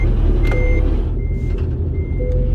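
A semi truck backs a trailer in American Truck Simulator, its reversing alarm beeping in a steady repeating pattern over a loud, low diesel engine rumble, close up with no talking.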